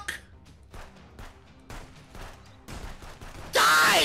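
Gunfire in the police border-inspection game Contraband Police, a series of sharp shots at uneven intervals, ending in a sudden very loud blast.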